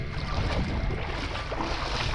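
A boat moving across the water, heard as a steady, close, low rumble with broadband wash throughout, and no talking.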